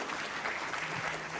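Audience clapping at a Balinese talk show, a steady dense wash of applause filling the short moment at moderate level with no distinct voices.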